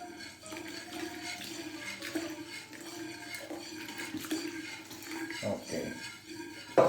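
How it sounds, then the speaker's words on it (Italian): Water poured steadily into a pot on an induction hob while preparing Palermo-style panelle, chickpea fritters, in a home kitchen. It makes a continuous soft splashing rush with some background clatter. "Continuiamo a mettere l'acqua."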